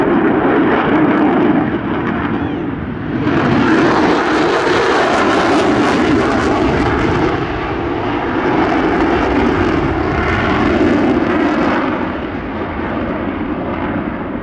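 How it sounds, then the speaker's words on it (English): An F-35 jet from No. 2 OCU roars through an airshow display at Shellharbour, a loud, continuous broadband engine rumble that swells and eases as it passes, with no talk over it. "This aircraft comes from No. 2 OCU, the F-35 Type-Specific Training Unit, and it's flown by Squadron Leader Ross Bauman."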